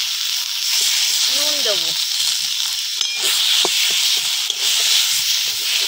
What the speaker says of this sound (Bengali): এবার ভালো করে নেড়ে চেড়ে আঠা আঠা করে একদম ভেজে নেব